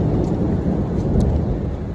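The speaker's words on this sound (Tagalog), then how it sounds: "Thunderstorm, raining, but I love it because it's been very hot, sunny here since I came." Heavy rain from a thunderstorm pours in Palma de Mallorca, a loud, dense, continuous roar of rainfall close by with no distinct thunderclap and no voices.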